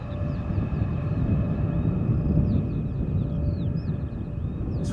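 A Transavia Airbus A321neo arrives at Schiphol Airport from Ljubljana as a faint, distant, steady jet rumble, with small birds chirping intermittently over it.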